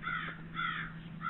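Crows cawing indoors in a room, three harsh loud caws in a slow repeating rhythm over a steady low hum, with no talking.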